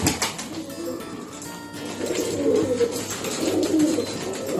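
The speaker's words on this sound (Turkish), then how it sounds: "Bu de şimdi benim eski kuşlarımdan." Tumbler pigeons in a coop give soft, repeated coos against a rustling background, with the calls building and growing steadier in the second half.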